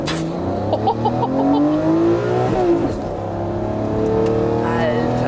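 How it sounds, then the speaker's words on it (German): Lamborghini Murcielago launching hard from a standstill, its engine rising through rising harmonic sweeps and a gear change, loud and close with a voice talking over it. "um den Jumpstart zu machen, direkt von der Bremse aufs Gas."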